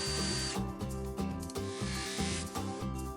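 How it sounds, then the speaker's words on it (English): A power drill fitted with a steel wool bit scrubs the rusty crevices of vise grip pliers, giving a steady whirring grind with a rhythmic, pulsing pattern that runs loud and close throughout. "using some steel wool on a drill bit to get"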